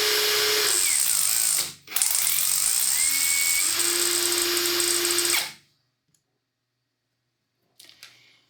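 A power drill spins a 4AFE fuel-injected ignition distributor with a steady high-pitched whine, briefly dipping and rising again before cutting off into near silence, with a faint click afterward.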